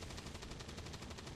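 Soldiers fire weapons in the video game XCOM 2, a loud, dense burst of rapid automatic gunfire that continues without a break for over a second, with no voices.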